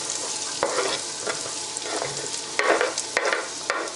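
Onions frying in hot oil in a pan for Pakistani onion rice, a steady loud sizzle broken by several scraping stirs, with no talking.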